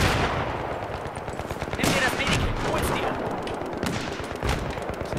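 Heavy machine-gun bursts and rifle fire in the video game Battlefield 3, loud and nearly continuous with sharp cracks, while someone speaks over it.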